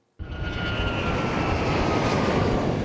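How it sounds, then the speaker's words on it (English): A Boeing 737 MAX 8 jet lands at Denver International Airport, its engine roar bursting in abruptly and then holding loud and steady as a broad rushing drone with a faint whine on top. "That is a Boeing 737 MAX 8."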